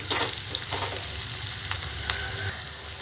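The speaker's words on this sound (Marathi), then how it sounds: "कांदा टाकून घेऊया कांद्याचा आणि तेल एकजीव करून घेऊया" Chopped onion sizzles in hot oil, a steady close crackle with a few clacks of a spoon stirring the pan.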